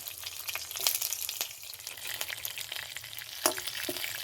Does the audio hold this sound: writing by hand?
no